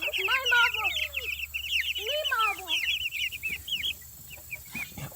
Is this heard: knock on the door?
no